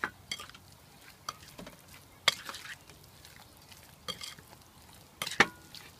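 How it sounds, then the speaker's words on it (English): Marinated meat for mushkaki being mixed by hand or spoon in a bowl: sparse, soft squelching and a few sharper clinks spaced irregularly over a quiet background, with no talk. "I'm just going to mix everything up really, really well"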